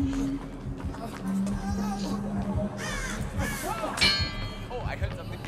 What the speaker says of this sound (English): The crows are behind me.